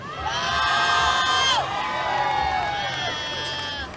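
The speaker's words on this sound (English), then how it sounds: "And the crowd goes nuts." A crowd cheers and shouts loudly for a woman completing a powerlifting squat at a competition expo, with whoops and children's voices rising together, dipping briefly midway, then surging again, continuous throughout.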